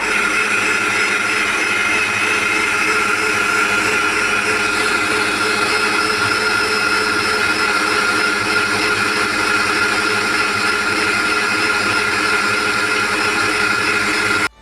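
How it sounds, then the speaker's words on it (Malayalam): A mixer grinder blending chilled milk runs at a steady high whine for the whole stretch, loud and close, with no voices over it. "ഇപ്പം ഞാനത് മിക്സിയിൽ അടിക്കുക"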